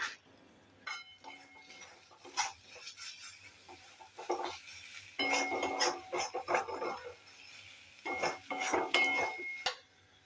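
A spoon stirring egg korma after salt goes in, giving quiet, irregular metallic clinks and scrapes against the pan in short clusters with pauses between them.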